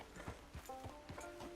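Horse hooves clip-clopping at a steady walking rhythm in Red Dead Redemption 2, the soft repeated thuds close by and moderately loud, with a brief whinny-like tone partway through and no talking.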